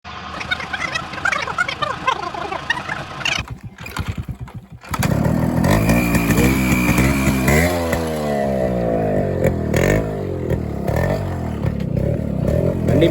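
A Yamaha RX100 two-stroke motorcycle, just repaired with a new clutch assembly, is kicked and starts, its engine settling into a loud steady idle with rising and falling revs close by, after a few seconds of quieter handling sounds.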